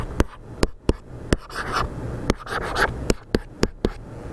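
Pen or marker scratching across a surface while limit notation is written out, short scraping strokes punctuated by sharp taps, close and clear with no voices.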